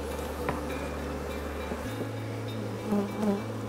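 Honey bees buzzing around an open hive during a hive combine, a steady close drone of many insects with a low hum shifting pitch partway, no talk.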